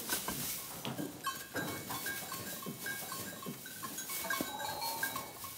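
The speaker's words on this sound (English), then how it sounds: "this struggle for power is quite normal for goats" Goats bleat repeatedly while butting heads in a dominance struggle, with several overlapping calls, sharp knocks and clatters of horn contact, and a faint clink of bells in the herd, all heard close by.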